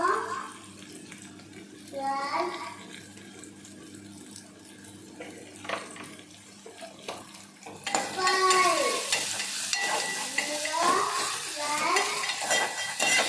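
Tomatoes fry in a pan for Shenga saru, a North Karnataka peanut curry, with a low steady sizzle and scraping stirs; from about eight seconds the frying grows louder and busier as a voice speaks over it.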